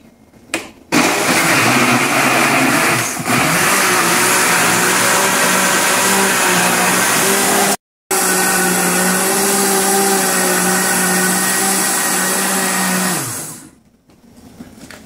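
An electric blender whirs loudly and continuously while blending milk kefir with passion fruit, starting abruptly, cutting out for a brief moment midway, then running on before winding down to a stop.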